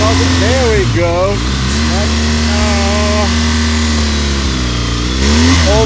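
BMW adventure motorcycle stuck in grass, its engine revving repeatedly in loud close bursts that climb and fall in pitch, with a rider's voice speaking over the rough idle between revs.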